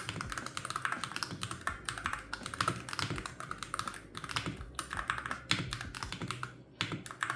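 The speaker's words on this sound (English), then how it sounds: "Sound is way better than I expected, especially on a Hall effect board." Someone types quickly and steadily on a budget Hall effect keyboard. The keystrokes are dense, smooth and slightly clacky, close up and fairly quiet, with no one talking.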